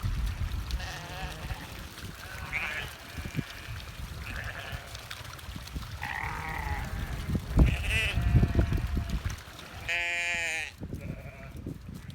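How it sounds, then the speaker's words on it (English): Wild sheep bleat repeatedly along the lakeside path at Loch Morar in the Scottish Highlands, several calls near and mid-distance with one loud, drawn-out bleat standing out against soft outdoor wind and ground noise. "There are wild sheep."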